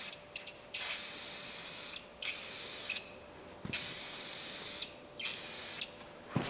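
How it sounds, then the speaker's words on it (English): Aerosol spray can misting tint onto the edges of tail lights on a Ford F100 Dentside truck, heard as four long steady hissing bursts separated by short pauses, close and fairly loud. "just letting the mist touch the edge of those lights"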